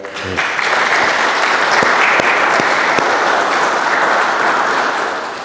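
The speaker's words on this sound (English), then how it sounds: "How about a quick round of applause for" A crowd at a parliamentary inquiry hearing breaks into loud, sustained applause for priests that holds steady for several seconds before starting to fade.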